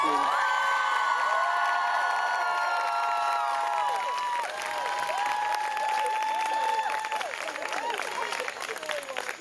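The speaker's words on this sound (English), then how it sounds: "let's give him one more round of applause" Audience at a school closing convocation applauds, with a crowd of clapping mixed with high cheers and whoops that drift and fade, dipping briefly midway before swelling again.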